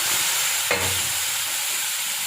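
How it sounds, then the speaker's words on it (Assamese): Onions frying in a pan on a home stove for an egg curry, a soft continuous sizzle with one quick stirring scrape, no talking. "পিঁয়াজখিনি দি অলপ ভাজি আছোঁ মই। পিঁয়াজ ভাজা হৈ গৈছে।"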